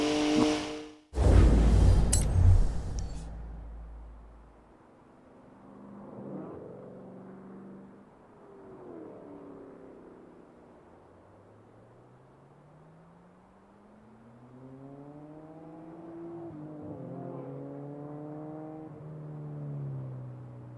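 BMW car engine in the racing game Forza Horizon 4, a rear-wheel-drive car: after a loud burst at the start, the motor hums low and steady, then rises through several revving climbs as it drives.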